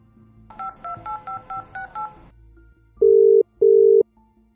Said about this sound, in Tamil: பரத்துக்கு ஃபோன் அடிப்போம்.